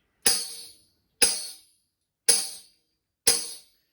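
Four hard, sharp tambourine hits, struck too hard, spaced about a second apart, each a bright jingle crash that is quickly choked and dies away.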